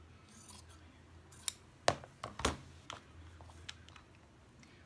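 Scissors trim fabric for an embroidery hoop wall-art craft, a few crisp close snips spaced irregularly over a quiet room.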